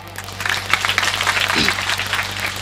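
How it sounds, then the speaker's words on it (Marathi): A crowd at a kirtan gathering claps steadily for a couple of seconds, a burst of dense applause with a faint voice briefly heard underneath. "एकदा वाज बघा यांच्यासाठी टाळ्या"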